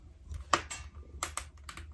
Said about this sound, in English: That's the sound of the kindling has now ignited.